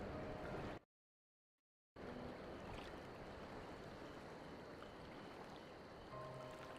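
Soft ocean waves wash steadily as ambience in Final Fantasy XIV, a broad continuous surf with a brief total dropout near the start, heard alone without voices.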